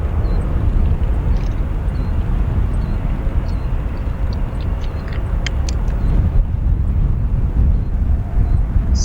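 A Boeing 757-300 airliner taxiing at O'Hare airport, heard as a steady, broad jet rumble and whine at moderate distance, with some wind buffeting the microphone and faint higher tones drifting above.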